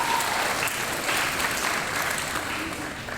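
Audience applause at an 8th grade recognition ceremony, a dense, steady clapping that fills the whole stretch at a constant, fairly loud level without obvious speech over it.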